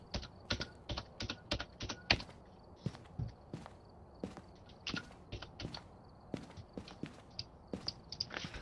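A loud computer keyboard being mashed, with rapid irregular clacking bursts of keystrokes close by, heard alone with quiet pauses in between, during a Phasmophobia game session.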